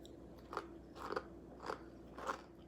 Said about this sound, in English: Oh, that crunch.